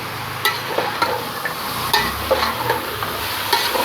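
Mutton sizzles as it is sautéed in a pot for Eid yakhni pulao, with a steady broadband fry hiss and a few sharp spoon-stirring clinks spaced through the few seconds, close and fairly loud with no talk.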